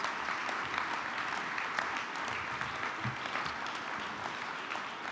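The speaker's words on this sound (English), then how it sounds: "If we could give the College Track staff a round of applause." Applause for staff at a groundbreaking ceremony for a College Track center in Bayview Hunters Point, a steady wash of clapping from a crowd heard at a distance, fairly quiet and even throughout.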